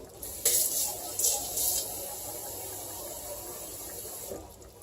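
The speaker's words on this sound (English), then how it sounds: "I'm going to take my can that I had earlier with my tomatoes in it, and I'm going to fill this can up" Tap water runs into an empty tomato can in a home kitchen, a close, steady splashing stream with a few brighter gushes early on, fading near the end.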